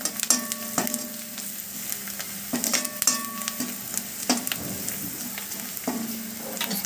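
Red chili powder and garam masala sizzle as they fry in a pan for samosa filling, a steady crackling hiss broken by periodic scraping stirs and light utensil clinks against the pan.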